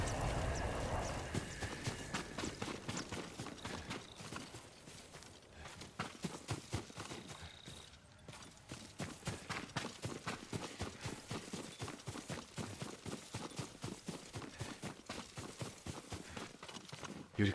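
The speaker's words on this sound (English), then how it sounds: "Yuriko's horse." Horse hooves clip-clop in a steady, rhythmic walking gait, close and clear for the whole stretch, with a brief whinny and faint background sounds.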